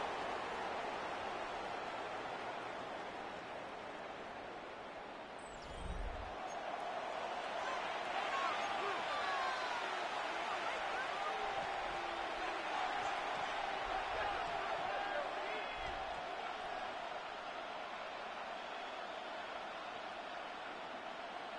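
A steady stadium crowd roar fills an American football video game, with a broad wash of cheering that swells slightly partway through and holds at a constant level for the remainder.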